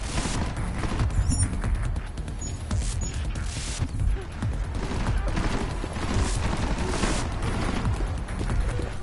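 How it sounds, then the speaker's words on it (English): Gunfire in a Deus Ex: Mankind Divided combat scene, loud, rapid bursts of shots and clattering impacts running continuously for about nine seconds with no pauses. "Weapon discharged."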